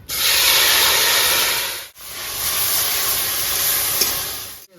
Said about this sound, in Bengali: মিডিয়াম সাইজের টমেটো কেটে রেখেছি, দিয়ে দেবো।